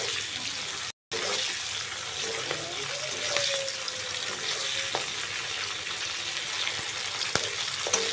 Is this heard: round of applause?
no